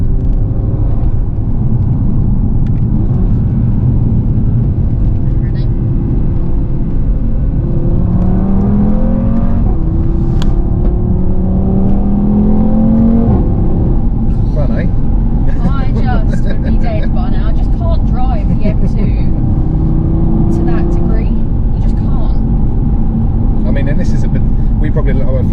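An Audi TT RS drives over a particularly bumpy stretch of road, its engine droning steadily with rising and falling tones as it pulls through the gears, close and loud, while people talk over it.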